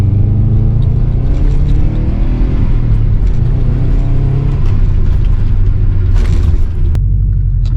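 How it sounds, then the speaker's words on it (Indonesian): A Subaru GC8 RA Limited engine being revved delivers a loud, close, continuous deep rumble with a steady throaty drone and slight swells as the throttle is worked. "itu ciri khas rumble-nya di mobil ini"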